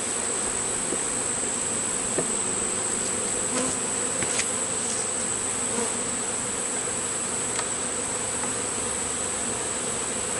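Honey bees buzz steadily around an open hive during an inspection, a dense, even drone with occasional individual bees passing close, with no talking.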